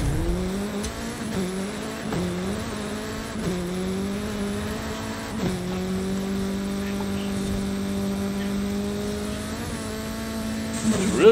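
Hoonigan race car engine in the video game Forza Horizon 5 drones steadily, shifting gears and revving up in repeated steps before holding a high whine, loud and continuous with no talk over it.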